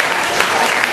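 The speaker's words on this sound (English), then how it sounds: "another round of applause, Hannah Morley and Jack Dean, everyone" Brief burst of steady, dense clapping from a poetry slam audience at a university competition, loud and continuous with no pauses.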